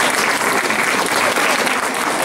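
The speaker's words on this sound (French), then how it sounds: "On peut l'applaudir, hein, quand même." An audience at a conference applauding a presenter, dense steady clapping from a crowd, close and loud throughout.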